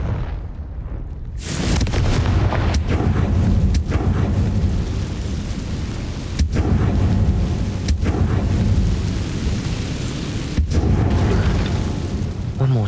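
In the Hogwarts Legacy video game on Nintendo Switch, the Confringo fire spell sets off loud booming blasts, several sharp explosive bursts punctuating a continuous roaring rumble, with game voices heard in the mix.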